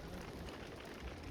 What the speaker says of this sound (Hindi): तो बारिश काफ़ी तेज़ होने लगी है।